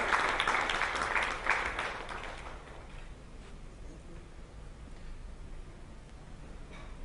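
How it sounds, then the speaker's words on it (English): An audience at an education summit in a hall applauds. The clapping is loud and dense at first, then thins to scattered claps over a low room murmur. "Let's give a big round of applause, please, everyone."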